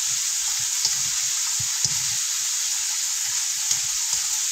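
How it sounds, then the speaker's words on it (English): Bacon and onion fry in a pan with a steady bright sizzle, broken by a few soft clicks and stirring knocks, close and continuous with no talking. "So I'm going to get done frying up this bacon."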